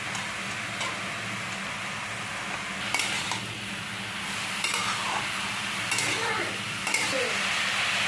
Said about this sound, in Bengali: এবার কেটে রাখা আলুগুলো দিয়ে দেবো।